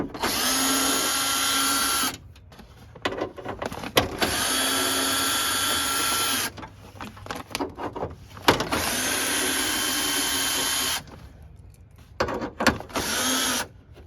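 Power drill backing out window regulator screws inside a Toyota Camry door, several loud whirring runs of about two seconds each separated by short pauses filled with clicks and handling noise.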